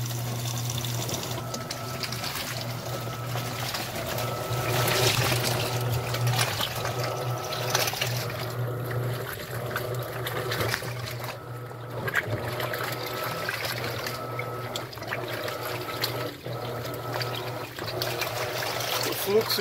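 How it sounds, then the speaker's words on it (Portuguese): Water filling an Electrolux washing machine and rising beside the filter, a continuous rushing and trickling flow with a low machine hum underneath, loud and close, while a person talks at times over it. "a água que vai subindo ali na lateral do filtro. Ela deve estar completando o nível,"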